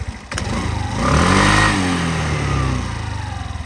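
Suzuki Address V125 scooter engine running close up, rising in a smooth rev then settling back to a steady mid-pitched hum, loud and continuous with no talking.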